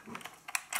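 Keycap being hooked and pulled off a Motospeed CK104 mechanical keyboard with a key puller: a few small, close plastic clicks and scrapes, sharpest near the end, in a quiet room.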